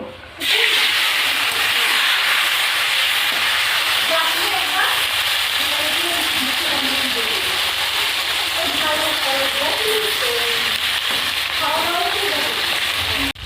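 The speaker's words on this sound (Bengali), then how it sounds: "মাছগুলো ভেজে নেব" Fish seasoned with salt and turmeric frying in oil in a wok, a steady close hiss and sizzle with small crackling pops running throughout, no voices over it.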